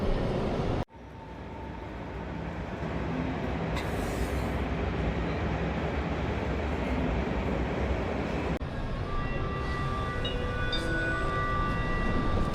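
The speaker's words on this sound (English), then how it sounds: "I'm ready for a 14-hour train ride." A night train from Germany to Paris rumbles along steadily from inside a carriage, with a sharp jolt near the start and high squealing tones later in the ride.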